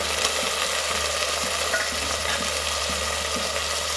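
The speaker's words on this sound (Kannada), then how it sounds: "ಎಲ್ಲ ಚೆನ್ನಾಗೆ ಫ್ರೈ ಆಗಿದೆ ಈಗ ಟೊಮೊಟೊನ ಇದ್ದೀನಿ" Tomatoes fry in oil for a Mangalore-style fish curry, giving a steady loud sizzle with light stirring scrapes throughout.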